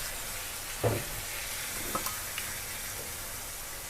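Steady hissing sizzle of fish sauce poured onto the side of a hot pan with stir-fried minced pork, with a few faint clinks and stirring scrapes, no voices.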